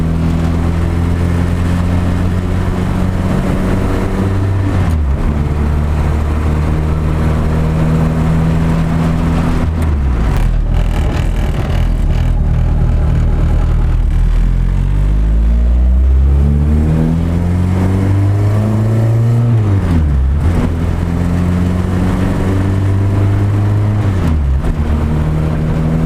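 A Honda CB7 track car, freshly tuned and out on its first test drive, revs loudly and continuously, its engine note climbing and falling repeatedly through the gears.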